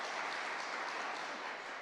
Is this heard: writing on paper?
no